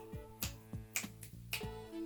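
A few quiet finger snaps in an uneven rhythm, sharp and close, over a soft sustained musical tone.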